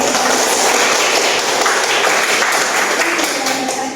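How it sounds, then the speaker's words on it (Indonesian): Steady applause from a group of participants at a university teaching session in Indonesia, loud and continuous clapping with no voices over it for the full length. "berikan aplaus kepada semua kelompok"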